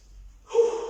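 A person taking a deep breath while resting between toning exercises, a short, close, breathy inhale that starts after a brief silence.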